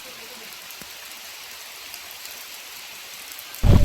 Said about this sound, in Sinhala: වැස්ස පටන් ගත්තා.